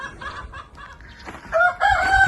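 Roosters crowing in the morning on a small farm with ducks, partridges and hens, several crows overlapping at moderate distance along with softer clucking, no talk.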